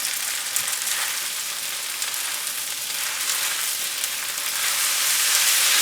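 Broccoli stir-frying in a hot pan for pad thai, a loud, continuous hissing sizzle that swells slightly toward the end, with no talking.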